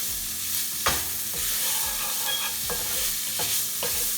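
Dry keema, a pound of minced meat cooking without oil in a pan, is stirred around, giving a steady soft sizzle broken by scraping stirs and sharp clinks of the utensil against the pan.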